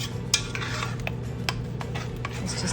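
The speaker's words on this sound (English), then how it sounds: "I'm going to stir everything together and melt all the cheese." Macaroni and cheese stirred in a pot on the stove to melt the cheese into the bechamel: a spoon scrapes and clinks against the pot in irregular strokes over a faint simmering hiss.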